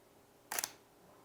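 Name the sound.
camera shutter opening and closing on a long exposure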